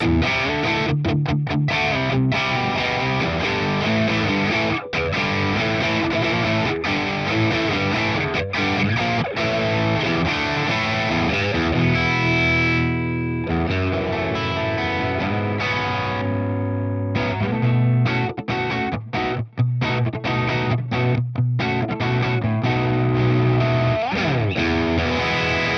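Electric guitar playing a rhythm part through a Mesa Boogie capture on a ToneX, with a loud, distorted, continuous tone, chugging chords and brief stops, and no voices.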